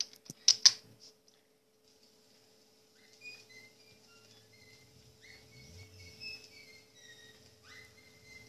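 Faint, thin whistled notes drift in and out over a quiet background, following a few sharp clicking taps at the start.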